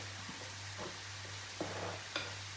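Boiled potato being mashed in a pan for fish cutlets, soft irregular stirring and pressing thuds over a faint low hum and quiet sizzle.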